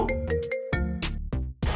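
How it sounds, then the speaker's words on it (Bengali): A phone ringtone plays a short melodic tune with tonal notes and chimes, loud and close, with no voices. "এই যে প্রিয়া কল দিতেছে, এখন আমি ওরা কি অ্যান্সারটা দিব?"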